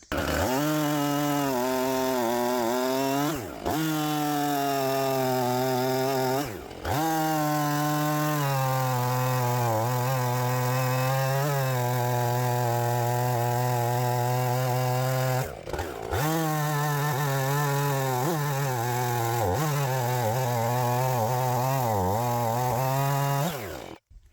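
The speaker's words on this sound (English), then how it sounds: "to cut the knot off, and we'll cut here, and then we'll probably have to drop the log to make the last cut" A chainsaw cuts through a knotty walnut log for firewood, a loud, steady buzzing snarl that drops briefly a few times between cuts and runs close up for the whole stretch.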